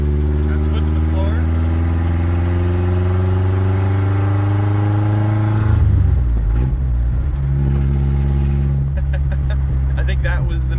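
A cheap older Ford Ranger truck engine runs loud and close at full throttle, holding a strained high drone, then dropping sharply back toward a lower idle rumble, with a brief rise again near the end.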